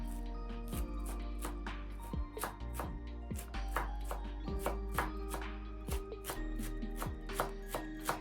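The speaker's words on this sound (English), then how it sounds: "you can flip everything to another angle and start chopping it" A knife chops cabbage finely on a board for dumpling filling, about twenty crisp, sharp knocks in an uneven quick rhythm, close and clear with no talk.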